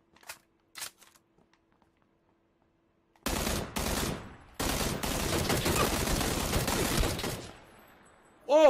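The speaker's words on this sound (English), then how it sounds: "Oh, a headshot with a DP-28." Rapid bursts of DP-28 light machine gun fire in the video game PUBG, two short volleys followed by a longer sustained string of loud, dense shots, with a few faint clicks before and a brief electronic tone at the end.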